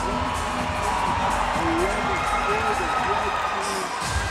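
Crowd cheering and whooping at an INTENNSE tennis match in Atlanta, a steady wash of voices from the stands with a commentator talking over it throughout.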